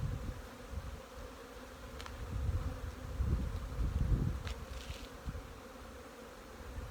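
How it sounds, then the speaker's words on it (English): Close, dense buzzing of many honey bees flying out of a hive, swelling and fading as they pass, with a low hum underneath and no voices. "Let there be flight."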